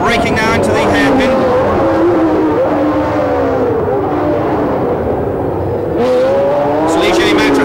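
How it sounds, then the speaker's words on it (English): A 1976 Ligier Matra Formula 1 car races by at the US Grand Prix West, its high-pitched engine screaming loud and close and sweeping past with falling pitch while a commentator talks over it. "look at the speed of that Matra engine, going past Jean-Pierre Jarier."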